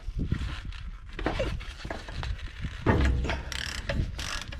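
A ratchet clicks in short uneven bursts while loosening a tightly torqued Dana 60 ball joint nut on a Super Duty axle, close and fairly loud, with metallic clanks between strokes.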